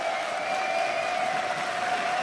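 An esports crowd at a League of Lendsgends match, SK versus EL, applauds and cheers in a large arena. The sound is a steady, even wash of distant clapping with a sustained tone running underneath.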